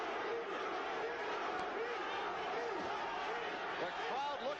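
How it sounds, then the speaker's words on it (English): A boxing arena crowd chants for underdog Carl Williams during his fight with Larry Holmes, a steady roar of many voices with rising chant swells, heard under a commentator's continuous talk. "And the crowd chanting for the truth."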